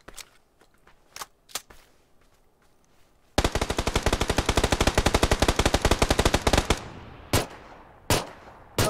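A long, rapid burst of machine gun fire erupts after scattered single shots, followed by a few more isolated loud shots.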